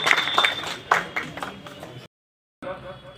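Applause from a crowd welcoming a guest to the stage at a dargah committee gathering, a burst of clapping for about two seconds that cuts off abruptly, followed by a brief silence and then the start of a new sound.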